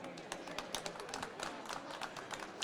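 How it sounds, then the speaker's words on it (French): Studio audience clapping for guest cook Sonia Esgulian on a French cooking show, a quick scattered patter of many hands at moderate level with no voices over it. "mesdames et messieurs, on peut l'applaudir très très fort"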